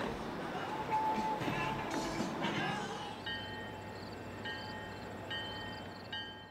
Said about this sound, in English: At dusk, the same train we saw at State Line continues east.